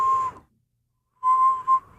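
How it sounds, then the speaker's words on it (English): A single person whistles a timid, sad little tune in two short phrases separated by a pause of about a second, the tone thin, clear and fairly close. "Yeah, just a timid little sad whistle."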